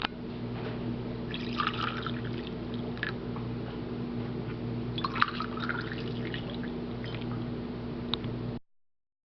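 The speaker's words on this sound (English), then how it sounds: "Pour the coffee into your mixing cup with the sugar." Coffee is poured into a mixing cup holding sugar, a quiet close trickle of liquid with small drips and splashes running for several seconds before cutting off.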